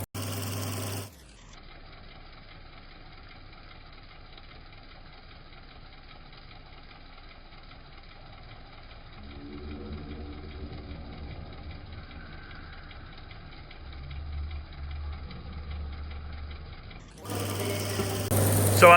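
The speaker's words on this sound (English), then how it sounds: "So these are the nozzles that are going out. Can you see the pulsing or hear that the pulsing?" Sprayer nozzles pulse rapidly in slow motion, giving a steady, low mechanical chugging drone with a faint rhythmic throb that grows slightly louder toward the end and sits between short bursts of louder noise at the start and finish.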